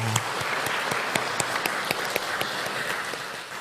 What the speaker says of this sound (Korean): 박수 치겠습니다.